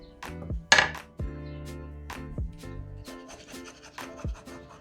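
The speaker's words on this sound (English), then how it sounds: "I'm gonna scrape all that yumminess up off the bottom" Spoon scraping the bottom of a 12-inch skillet of simmering Colorado pork green chili, a series of separate rasping scrapes and clinks, fairly close, with quiet gaps between strokes and no talk.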